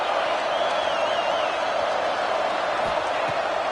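A football stadium crowd roars during a big third-down play, a loud, steady wall of cheering and noise that holds at full strength for the whole few seconds.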